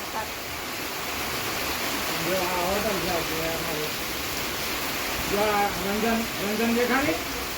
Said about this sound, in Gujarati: કેટલો સરસ વરસાદ આવે છે